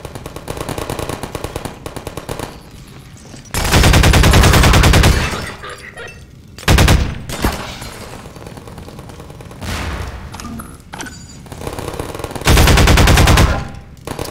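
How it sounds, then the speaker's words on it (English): Automated turrets in Half-Life 2 let loose long, loud bursts of rapid gunfire, three separate volleys broken by quieter stretches of scattered shots and game sounds. "But I hear more turrets."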